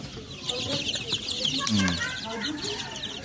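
Newly hatched native chickens sit in a brooding house, giving soft clucks and high chirps close by. People talk over them throughout.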